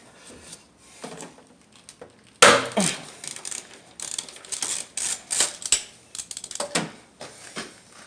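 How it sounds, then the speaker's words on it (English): Ratchet wrench working a 10 mm nut loose on a 2010 Nissan Sentra during spark plug replacement, with rapid metallic clicking bursts repeating close by over several seconds and no talking. "Now the next thing we're going to remove is this 10 millimeter nut out of here."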